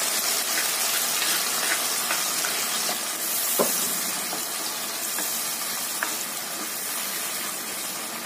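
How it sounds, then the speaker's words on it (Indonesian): Spice paste for fish stir-frying in a pan, with a steady broadband sizzle that holds throughout and a few faint clinks from the utensil stirring it. "Tumis sampai bumbunya matang."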